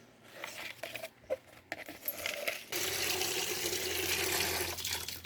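Running water washes over freshly picked small white cardamom flowers: a few light clinks and handling sounds first, then a steady, close stream of tap water pours continuously.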